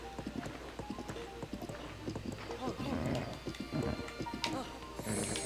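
Horse hooves clip-clop in a video game, a quick uneven run of hoof knocks that carries on steadily while a person talks over them.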